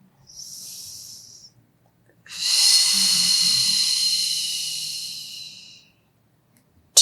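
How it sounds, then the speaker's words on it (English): Slow, deep breaths during a Pilates stretch for back pain: a short airy inhale, then a long, loud hissing exhale lasting several seconds, close and alone. "3 more breaths"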